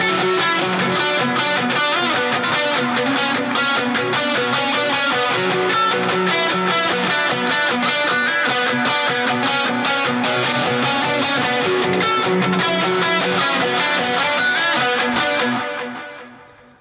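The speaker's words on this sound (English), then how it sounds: "I wanted this just to be a really wet lead. Reverb, delay, chorus, it's all in there." A wet, muffled synth lead drenched in reverb, delay and chorus, sustained loud and dense throughout with a thick washed-out tail, fading out in the final second.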